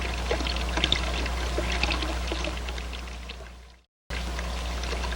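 Water pouring steadily through a manifold in a fluid-flow demonstration, a continuous close rushing trickle that fades out briefly before resuming at the same level.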